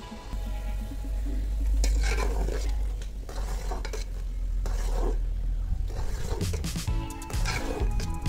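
Sugar syrup with lemon juice boils in a pan for a sweet, with a spoon scraping and stirring against the metal in repeated strokes over a steady bubbling hiss, fairly close and loud.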